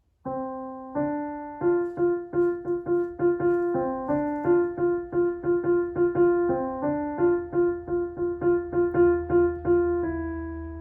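A piano plays a simple, slow melody in single notes, each struck cleanly and ringing briefly before the next.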